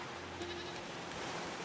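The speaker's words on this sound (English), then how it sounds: "Yeah, these are all goats." Goats in the survival game Raft, including a rare goat, bleat on a grassy patch among other livestock, a faint, thin cry sounding briefly over a steady wash of ambient background noise, with no talking.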